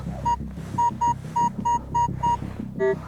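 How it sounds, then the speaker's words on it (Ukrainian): A metal detector signals a copper target in a field, repeating short electronic beeps, about seven evenly spaced pulses over a low throbbing hum, ending on a lower-pitched tone. "Так, значить мідний сигнальчик ще зловив."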